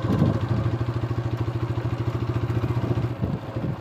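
A motorbike rides along a riverside path, its engine chugging in a fast, even pulse close by, steady and fairly loud throughout with a light rattling edge.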